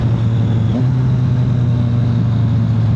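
Motorcycle engine pulling hard and upshifting without the clutch, a loud steady drone with a brief pitch dip as the gear changes near the start, then continuing strong and close throughout.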